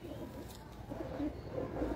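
Pigeons coo softly and repeatedly among breeders' and highflyer birds in the UAE, low throaty calls rising and falling over a steady murmur of background noise.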